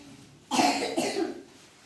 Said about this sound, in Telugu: ఏ దగ్గు వస్తుంది?